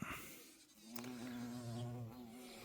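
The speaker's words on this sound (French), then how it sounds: "Les abeilles, les bourdons" A steady, low-pitched buzzing of bees and bumblebees drones on with a slight waver, hovering close by in a quiet morning garden.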